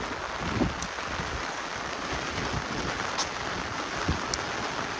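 Heavy rain falls on a village in a dense, steady wash with scattered sharper drops and patters, moderately distant and constant throughout.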